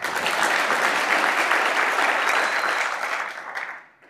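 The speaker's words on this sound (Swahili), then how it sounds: "Tujipigie makofi wote" Dense, steady applause from a large audience at a Yanga club gathering rolls on for several seconds, then fades out quickly at the end.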